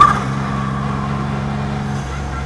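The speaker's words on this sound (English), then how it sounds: "this new sequential gear shift that the Formula Fords get with an automatic flip on the downshift is a joy" Formula Ford EcoBoost race car with a sequential gearbox droning steadily at close range, its engine holding a low, even note through a downshift with no voices.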